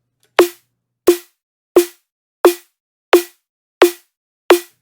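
Seven punchy, crisp layered drum and bass snare hits ring out at a steady, evenly spaced rhythm, each with a sharp attack and quick decay, isolated against silence.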